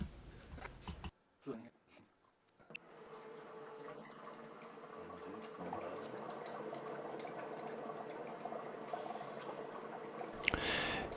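Water bubbling in the humidifier bottle of a Pulmovolta Cavallo 1000 hydrogen inhaler filled with double-distilled water, a soft continuous gurgle that begins after a few clicks and handling noises and continues at low level.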